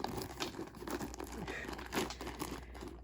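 Plastic packaging crinkles and rustles close by as a Louis Vuitton Palm Springs Mini bag is unwrapped, with soft crumpling bursts and faint tearing over a quiet background.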